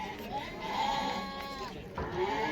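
Sheep and lambs bleat at a livestock market, a couple of wavering, drawn-out calls close by over steady crowd murmur and background voices.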